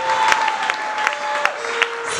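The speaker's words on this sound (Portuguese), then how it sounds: "a igreja, ajuda-me a dar uma salva de palmas" A church congregation applauds steadily during a service, dense clapping with a few sharper hand claps standing out, while a sustained tone, likely a keyboard or singing, runs underneath.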